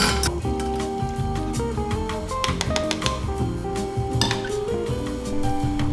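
Metal strainer and cooking pot handled in a kitchen while making Chinese char siew pork belly, giving a steady run of close, loud clinks and clatters with no talking.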